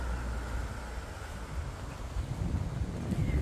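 Cold wind rushes down from a mountain into lower ground where snow is drifting, a steady roaring buffet with heavy low rumble across the microphone.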